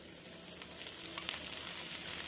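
Oil sizzling around a ragi rava dosa in a pan, a quiet, steady hiss that swells slightly toward the end, with no voices.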